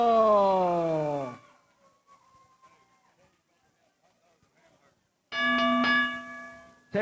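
A boxing match bell rings out loud twice, the first long ring decaying into near silence and a second ring following a few seconds later, with crowd murmur faint underneath.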